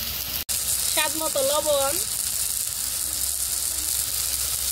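Chicken and bottle gourd curry sizzling in a pan, a steady loud frying hiss that carries throughout, with someone briefly speaking over it.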